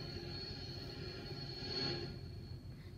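A Metra commuter train in a train simulator game gives a steady low rumble and hum with a faint high whine, continuous and moderately quiet, with no talk over it.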